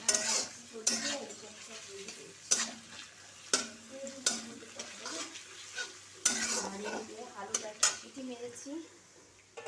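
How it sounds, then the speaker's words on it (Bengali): Onions fry in a pan while a spoon stirs and scrapes with repeated sharp clinks against the metal, over a soft sizzle and quiet kitchen background. "আর এখানে পেঁয়াজ ভাজা চলছে"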